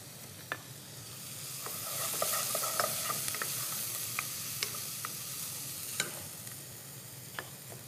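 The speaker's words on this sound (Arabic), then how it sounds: "من بعد ما تقلى شوي البصل منضيف عليه توم." Onion fries in a pan for chicken risotto while being stirred, a soft continuous sizzle broken by scattered clicks and scrapes of a utensil, close and fairly quiet with no talk.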